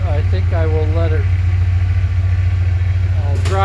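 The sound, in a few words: Ford F150 engine idling, running on 8 cylinders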